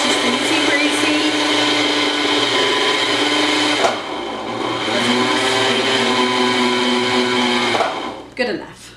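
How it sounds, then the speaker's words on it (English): A home sewing machine's electric motor, run with the foot pedal while winding thread onto the bobbin, gives a steady loud whirring hum that holds for several seconds, dips and pitches up again, then stops abruptly. "we're going to push the pedal, and it's going to load thread on the bobbin"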